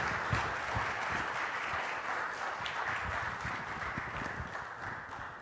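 An audience claps steadily as a speaker walks up to the stage, a moderately loud, continuous patter of many hands with no voices over it.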